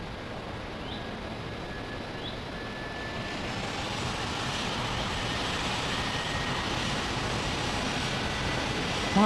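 Air Canada Boeing 777-300 jet on its takeoff run, a steady broadband engine roar that swells gradually and holds loud and close throughout, with a faint thin whine riding above it and no voices.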